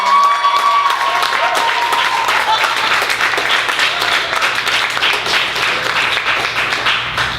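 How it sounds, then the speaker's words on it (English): An audience at a bookstore book launch applauds steadily, dense clapping that stays loud and even throughout without pause. "I just want us to give one round of applause for Nancy."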